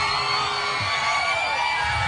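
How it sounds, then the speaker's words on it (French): A studio audience at a live radio and TV show with Christine and the Queens cheers and yells in a continuous loud roar of whoops and shouts, with no pauses. "Ça fait longtemps que j'avais pas entendu gueuler comme ça."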